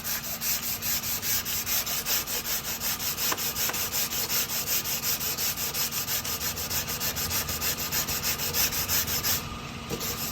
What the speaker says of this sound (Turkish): O yüzden yüzeyi zımparalıyoruz